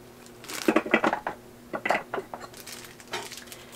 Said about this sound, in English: So first I'm going to put on the top here that extends the bowl